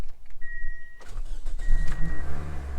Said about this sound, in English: Let's see if it will do Toyota things and start right up. It might take it a couple of cranks.